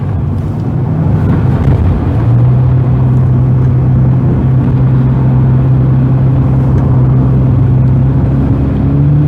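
Continuous road traffic on a city street at night, steady rumbling engine and tyre noise with a low droning hum rising slightly partway through, fairly loud and with no voices.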